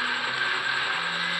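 An electric blender runs at full speed, blending watermelon with milk into a smoothie, a loud steady high-pitched whirring drone with no pauses or talking.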